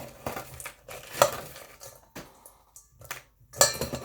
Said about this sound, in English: Let's mix it all together.